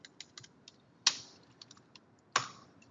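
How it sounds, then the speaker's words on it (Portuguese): Light keystrokes tapping on a computer keyboard during coding, with two sharper, louder key strikes standing out against a quiet background and no voices. "estou digitando aqui, não foi?"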